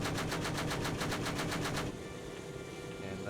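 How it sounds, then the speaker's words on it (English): An M230 chain gun on a helicopter in the Project Longbow video game fires a rapid, evenly spaced burst of heavy rounds for about two seconds, then cuts off into a steady background hum. "And that's the M230 chain gun."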